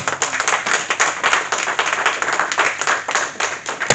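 A church congregation at an evangelical service claps and applauds steadily, dense, close and lively applause filling the space with no talk over it.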